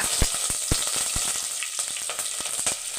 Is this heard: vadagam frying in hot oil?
yes